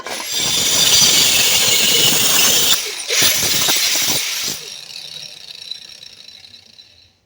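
Loud, continuous abrasive shriek of a cut-off wheel slicing through a car brake pedal during a manual transmission swap on a 1970 Ford Torino, with a short break near the middle before cutting resumes, then spinning down to a fading whine.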